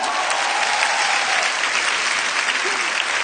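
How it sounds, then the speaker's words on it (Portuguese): An audience at a women's congress applauds Helena Tanuri with steady, dense clapping that holds at an even level for the whole stretch, close and full with no pauses. "Vamos aplaudi-la?"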